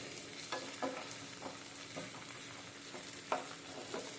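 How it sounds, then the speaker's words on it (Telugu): Crabs frying and being stirred in a hot pan, giving a steady close sizzle with repeated scraping stir strokes and no talk. "ఈరోజు ఫ్రై చేస్తున్నాను"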